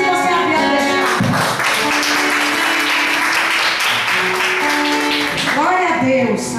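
Church congregation clapping in praise to the Lord, a steady rhythmic applause running throughout under a loud sung and spoken worship voice.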